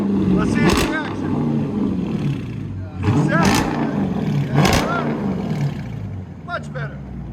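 A Dodge Charger R/T with a 5.7L HEMI and straight-pipe exhaust rumbles at idle and revs in three or four sharp bursts, loud and close, with a low burble between revs and talk in the background.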